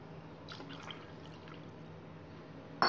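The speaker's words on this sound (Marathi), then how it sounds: "पाणी हे संपलं असेल तर आपण त्यामध्ये दुसरं पाणीही ॲड करू शकतो" Water is added to a simmering clam and potato curry, giving soft drips and light splashes over a low steady background, faint and close, ending with a sharp brief clatter.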